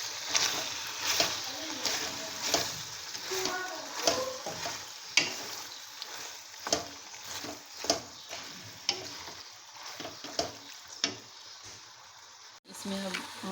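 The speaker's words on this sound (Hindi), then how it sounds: "अब इसमें मैक्रोनीज़ डालेंगे और इसको अच्छी तरह मिक्स करेंगे।" Macaroni being stirred into beef frying in a pan: a utensil scrapes and clicks repeatedly in an irregular rhythm over a steady low sizzle, fairly quiet and close, with a brief louder clank near the end.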